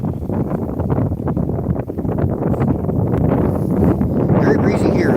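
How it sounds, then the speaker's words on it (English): Strong gusts buffet an outdoor microphone on a breezy morning in Atlantic Canada, a loud continuous low rumble that persists throughout, with a voice talking underneath. "Very breezy here as well."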